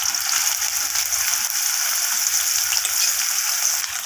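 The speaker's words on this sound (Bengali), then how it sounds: "প্রথমে আমি কেটে রাখা উচ্ছেগুলোকে তেলের মধ্যে দিয়ে ভেজে নেব একটু লালচে লালচে করে" Chopped bitter gourd frying in mustard oil, a loud, dense, continuous hiss and crackle of hot oil close up, steady throughout with no talking.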